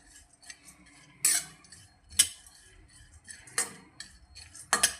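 Cashews and other dry fruit are dry-roasted in a pan without ghee. Quiet, scattered clicks and a few sharper metallic clinks come from the utensil and nuts against the pan, with near-silence in between.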